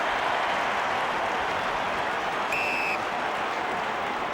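Dense, steady roar of a large stadium crowd at the 2004 AFL preliminary final between Port Adelaide and St Kilda, a continuous loud wash of cheering, with a brief whistle near the end.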